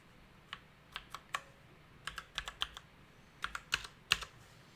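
Keys clacking on a computer keyboard as a color code is entered, a close, quiet run of a dozen or so crisp clicks in short uneven bursts with no talking.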